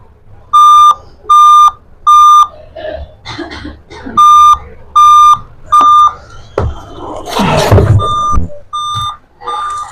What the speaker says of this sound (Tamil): இது வந்து டெல் லேப்டாப்பு. நம்ம என்ன ட்ரை பண்ணாலுமே இதே மெத்தட்ல சவுண்ட் கொடுத்துக்கிட்டே தான் இருக்கும்.